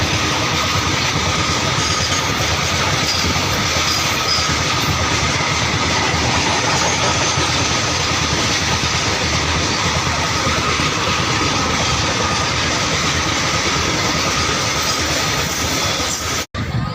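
A train rolls past near a bridge in Kohand, a loud, steady rumble with clattering wheels sustained throughout, then cutting off abruptly at the end.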